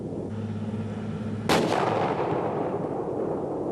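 A single M1A1 Abrams tank fires its 120mm main gun: one sudden, massive blast that rolls off into a long, fading rumble, with a steady engine-like drone underneath beforehand.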